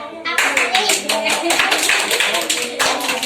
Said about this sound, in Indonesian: Tepuk tangan yuk kawannya.